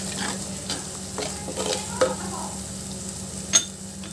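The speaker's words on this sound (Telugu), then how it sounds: "ఇప్పుడు చూడండి, బాగా ఫ్రై అవుతుంది." Fish frying in oil in a pan, a constant dense sizzle with scattered scrapes and two sharper clacks as it is stirred.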